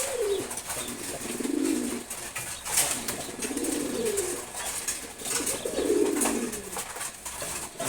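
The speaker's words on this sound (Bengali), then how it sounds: "রেসার কবুতর" Racing pigeons cooing close by, several low, throaty coos coming every couple of seconds over a faint background of rustling and flutter.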